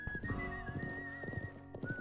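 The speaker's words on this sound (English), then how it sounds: "Oh no, the ghost horse got away and I killed Mad Dog." A horse neighs in the video game Live A Live, with a whinny and clip-clop hooves layered over a steady, sustained whistling tone at moderate volume.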